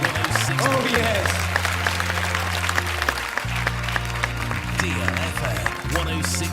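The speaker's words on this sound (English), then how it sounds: "Give him a clap offering." A church congregation claps in praise, steady dense applause with whoops and cheers over a low sustained keyboard or organ chord, loud and close throughout.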